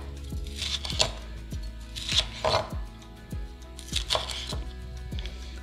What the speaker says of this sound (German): Dann schneide ich erstmal schmale Streifen.